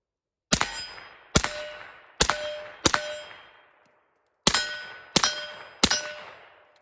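Seven sharp suppressed pistol shots ring off a steel target, each a crisp clang with a fading metallic ring, in two groups of four and three at a steady pace, fairly close, with no talking.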